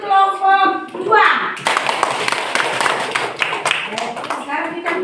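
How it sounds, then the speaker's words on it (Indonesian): A school class claps for a student group after a presentation, a burst of quick close hand claps with children's voices mixed in, following a short stretch of speech. "tepuk tangan untuk kelompok 2"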